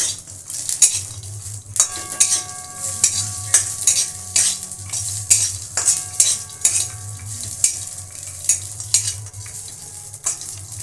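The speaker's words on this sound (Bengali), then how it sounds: "কাজু কিশমিশটা আমি অল্প নেড়ে নিয়েছি" Cashews and raisins fry in ghee in a pan under a low sizzle, while a spoon stirs them in a quick, regular rhythm of scraping and clinking strokes against the metal, close by and with no speech.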